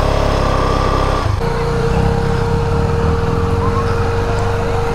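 A Kawasaki H2R superbike revs hard during a smoky burnout off-road in Jammu: a loud, close, continuous engine roar that dips briefly, then holds a steady high-pitched drone.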